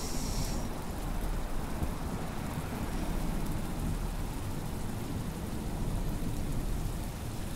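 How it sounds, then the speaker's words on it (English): Steady rain from the video game Hob's Barrow, a dense, continuous hiss of falling water with low rumbling underneath, holding even and fairly loud throughout with no voices. "So hopefully it'll stop raining."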